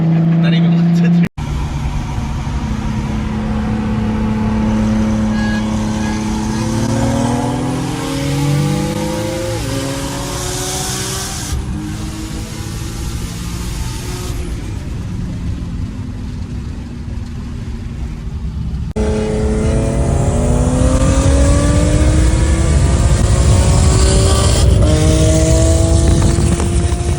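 Turbocharged Nissan 350Z racing an 800 whp Mustang, engines roaring loud and close through long rising gear pulls with shifts, continuous for the whole stretch and building louder near the end.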